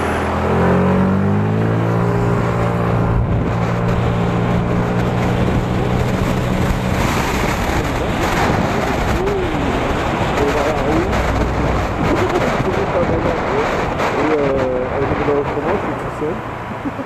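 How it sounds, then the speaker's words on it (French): A car engine pulls through a moderate acceleration before a right turn, its tone climbing steadily from start to finish over constant road and cabin noise without much speed. "je vais faire une accélération il roule pas super vite"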